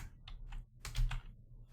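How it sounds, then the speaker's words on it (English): Keystrokes on a computer keyboard while entering a Word document file name in Excel VBA code, a short run of soft, close clicks with a denser burst in the middle, heard alone. "let me type it in correctly"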